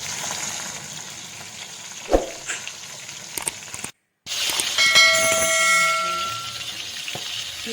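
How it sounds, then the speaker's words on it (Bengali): Two fish heads frying in hot oil, a loud, close crackling sizzle with a few spatula knocks, broken by a brief dropout of silence before the sizzle resumes stronger. "মাছের মাথাটা ভালো করে দুটো পিস ভালো করে ভেজে নেবো"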